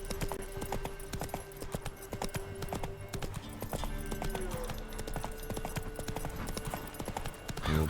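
Horse hooves clip-clop steadily in a video game, a quick regular trot running the whole time over soft background music, with no talking.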